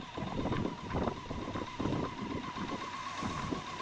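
A BMW K100 motorcycle engine idles on choke, a steady, somewhat uneven low rumble with a thin whine riding on top, running alone without talk.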